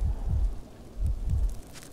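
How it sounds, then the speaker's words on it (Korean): A heartbeat in the video game Miasmata, deep low thumps in pairs repeating about once per second, close and steady, with faint background ambience and no talking. "두근거리는 소리"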